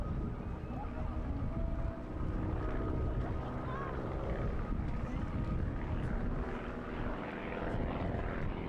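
Aerobatic propeller aircraft rolling into a wing over at the Eastbourne International Airshow, its engine drone loud and steady throughout with wind rumble, shifting slightly as the plane turns.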